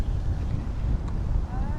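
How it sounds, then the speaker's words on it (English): Wind buffets the microphone in a sustained, heavy rumbling gust at Langdon Park, London, loud and steady for the whole stretch. "See, a gust just came again."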